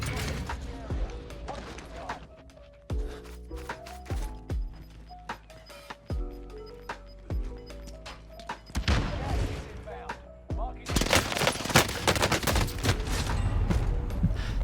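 Bursts of gunfire in Call of Duty Warzone Rebirth, with rapid shots in clusters and a dense stretch of firing near the end, over game music and someone talking.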